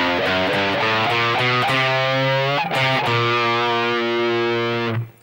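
Distorted electric guitar plays the closing phrase of a song: a few quick picked notes, then long sustained ringing chords, loud and close with no talking, cut off abruptly at the end.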